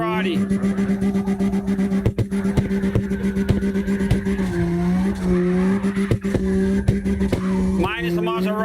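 A Maserati drifting in the racing game CarX Drift Racing Online, its engine holding a steady loud drone with tire squeal swelling near the end, while a person talks over it throughout.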